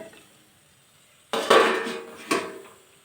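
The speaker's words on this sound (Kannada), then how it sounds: "ಈಗ ಒಂದು ಪ್ಲೇಟನ್ನು ಮುಚ್ಚಿಬಿಟ್ಟು ಬೇಯಿಸೋಕ್ಕಿಡೋಣ" A plate set over a pot of cooking beans as a lid: two quick clinks of metal or ceramic a second apart, close and fairly loud after a quiet stretch.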